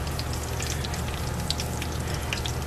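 Onion rings fry in a pot of hot oil, giving a steady, loud sizzle with scattered crackling pops throughout and no voices.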